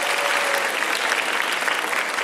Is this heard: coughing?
no